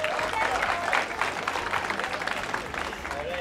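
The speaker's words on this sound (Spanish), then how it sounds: "Un aplauso para Breiner." An audience applauds a contestant on a Cundinamarca television segment, a steady wash of clapping at moderate distance with voices mixed in underneath.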